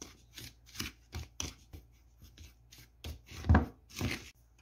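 Dough ingredients with sugar being stirred and mixed by hand in a bowl, a series of soft, scraping, rustling strokes in an uneven rhythm, close and fairly quiet.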